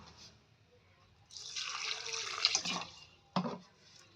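Water poured from a container onto carrot paste in a kitchen mixer jar: a soft splashing trickle that swells for about two seconds, then a short second pour, close and fairly quiet.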